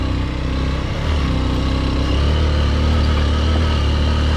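A motorcycle engine roars loud and close during a wheelie on a Saturday ride, holding a heavy, continuous drone that swells slightly as the throttle stays open, with no talk over it.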